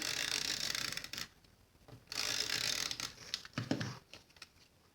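A Stampin' Up Snail adhesive tape runner is drawn across paper in a few short bursts, giving close, faint ticking and rolling clicks separated by brief pauses.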